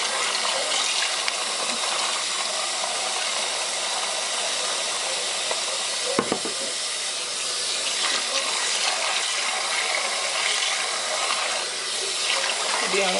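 Tap water runs steadily over a wig during shampooing, a continuous broadband splashing hiss with one brief louder splash midway.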